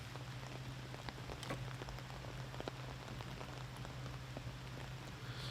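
Steady rain patters and splashes on surfaces throughout a disc golf tournament round, with scattered sharper drops over a constant low hum.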